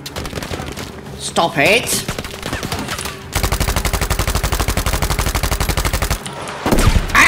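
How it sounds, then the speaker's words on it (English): Rapid automatic gunfire crackles in a Battlefield V firefight, a long sustained burst of evenly spaced shots after scattered earlier reports, with a voice shouting over it. "you're shooting at me over there"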